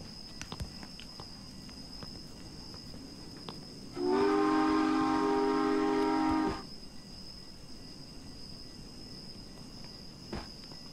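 A train horn in the Roblox video game sounds one long, loud, steady blast of about two and a half seconds over low background noise, with a few clicks around it.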